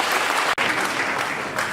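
Dense, sustained crowd applause fills the hall at a Dynamique de l'Opposition political convention, loud and continuous with no voices over it, apart from a brief sharp dropout partway through.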